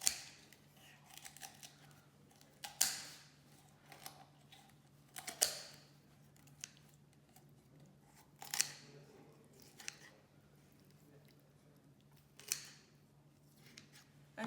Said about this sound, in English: cut either side of the breastbone with a sharp scissors, or I have a kitchen shears